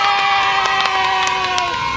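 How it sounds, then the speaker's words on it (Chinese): Small group cheering loudly for the winner of a dance contest, shrill sustained whoops and shouts with rhythmic claps running under the voices. "先大家为 Tina 欢呼三秒钟"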